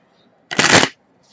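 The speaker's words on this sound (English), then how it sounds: "I kind of like to shuffle these cards like face up and face down" A quick riffle of tarot cards being shuffled, one short crisp burst up close, with silence before and after.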